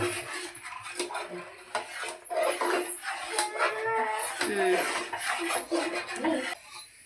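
Semolina papad batter stirred in a metal pan, a rapid run of clinks and scrapes of spoon against the pan, close and fairly loud, with a voice speaking over it.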